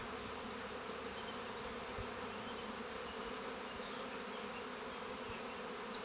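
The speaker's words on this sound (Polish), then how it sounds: "Tu widać jak pszczoła się zlatuje" Honeybees fly around an open beehive body as one hive box is lifted off another, their buzzing a constant, even drone filling the air nearby, fairly soft and uninterrupted, with nobody talking.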